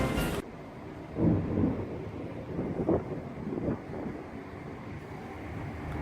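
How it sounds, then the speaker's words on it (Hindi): Heavy rain in Istanbul, Turkey hisses steadily while low rolls of thunder rumble faintly in the distance. "काफ़ी तेज़ बारिश हो रही है और काफ़ी देर से बारिश लगी हुई है"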